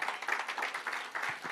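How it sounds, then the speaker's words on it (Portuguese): A church congregation claps together in a dense, rapid burst of applause, close and lively, with no speech. "Dá-lhe uma ofrenda de aplauso a Cristo."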